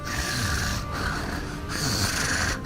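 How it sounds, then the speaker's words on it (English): Heavy, raspy breathing through a Voxhaler, a loud mask-like rattling breath in two long drawn cycles with a brief pause between, close and alone. "You can stop breathing now."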